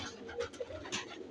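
A pigeon coos briefly nearby, a couple of soft low rolling notes, faint and close with light background noise.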